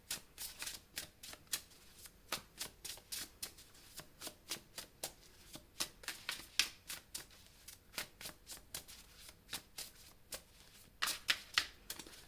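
Tarot cards shuffled by hand for a reading, with a close, steady run of crisp riffling snaps and shuffles for over twelve seconds and no talking.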